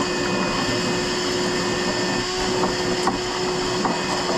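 Close, continuous whir of a little DeWalt cordless sweeper vacuum as it works through heavy sand on an Allis-Chalmers 200 tractor, with faint knocks and scrapes against the metal underneath.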